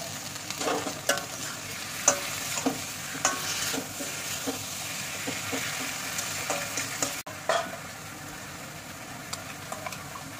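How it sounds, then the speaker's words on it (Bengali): Vinegar, garlic and ginger marinated meat sizzles and fries with browned onions in a pan, with steady frying hiss and repeated close stirring scrapes, plus a brief break near the end. "পেঁয়াজটা ভাজা হয়ে গেছে, এইবার মাংসটাকে ভিনিগার আর রসুন আদা দিয়ে পেস্ট মাখিয়ে রেখেছিলাম।"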